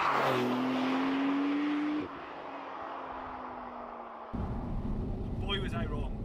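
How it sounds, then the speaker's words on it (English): Engine of a 2020 Porsche 992 Turbo S Cabriolet, a rising turbo whine over a steady engine drone that drops and then surges louder, heard up close with talking over it. "The turbo spooling noise of this thing is just insane."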